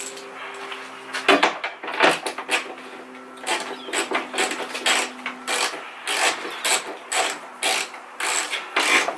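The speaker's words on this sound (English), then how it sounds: "So I'm going to take out the rest of the bolts with a tiny little itty bitty ratchet." A tiny quarter-inch-drive ratchet backs out car bumper bolts, its rapid clicking pawl heard close and loud in repeated short bursts with brief pauses between strokes.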